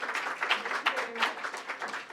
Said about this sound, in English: So please, a big round of applause for Anne Francke.